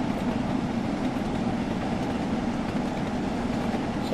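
Steam locomotive running in the Train Sim World 3 game, a steady dense rumble of rail and engine noise at constant level throughout, close and continuous with no talking.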